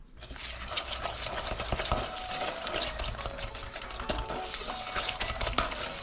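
Orange juice and orange zest being stirred into cupcake batter, a steady close scraping and swishing of a utensil in a bowl with small clinks throughout, no talking.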